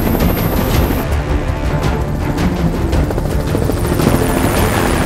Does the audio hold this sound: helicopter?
yes